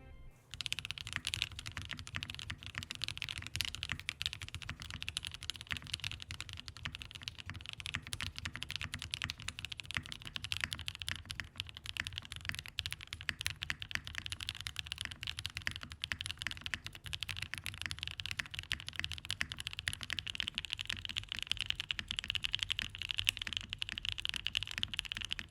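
Continuous brisk typing on a custom mechanical keyboard fitted with GMK Striker keycaps, the case sandwiching a bottom case between two top cases; steady close clacks run for the whole stretch with no talking.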